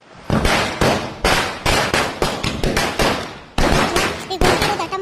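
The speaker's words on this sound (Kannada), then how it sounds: "ಪಟಾಕಿ ಹತ್ಕೊಂಡು ಕಣ್ಲ, ದೂರ ಸರಿಲ್ಲ." Firecrackers lit by hand go off in a rapid string of sharp, loud cracks, more than a dozen bangs in uneven bursts, close and without talk between them.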